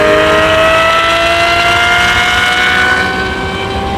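A straight-piped Lamborghini Urus exhaust roars loud and near in a sustained rev, its pitch climbing slowly and smoothly over a few seconds, with no talk over it.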